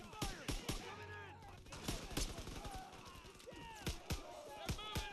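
Sharp gunshots crack in the Call of Duty WW2 Death Factory mission as SS troops attack, scattered rifle and machine-gun bursts near and far, with soldiers shouting over the fire.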